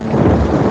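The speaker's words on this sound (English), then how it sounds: "There's a storm coming." Deep, loud rolling thunder from a storm in a radio insurance advertisement, a dense continuous rumble with rain-like hiss filling the short stretch.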